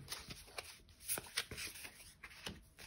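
Tarot cards being shuffled and drawn for a reading, with faint, close, irregular papery flicks and slides in a quiet room.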